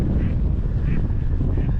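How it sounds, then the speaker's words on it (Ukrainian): Steady crosswind buffets the microphone in a low, continuous rumble on the bank of the Oster river at a fishing spot, with no talk over it. "Правда, тут вітер боковий."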